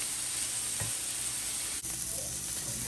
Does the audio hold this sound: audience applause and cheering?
no